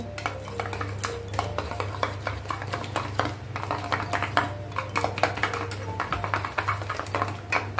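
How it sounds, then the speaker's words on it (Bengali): Sour curd is whisked in a bowl for raita, a rapid, close run of light clicking and scraping strokes against the bowl over a low steady hum, with no talk. "একটু টক দই ফাটিয়ে দিচ্ছি"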